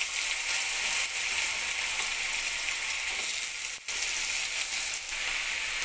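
Cut potatoes frying in oil with whole cumin and dried red chilli, a dense, steady sizzle that holds loud and close throughout, with one brief dip near the end.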